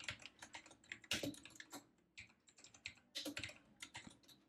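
Fingers tap out code on a computer keyboard in quick, uneven bursts of close, crisp keystrokes with short pauses between runs.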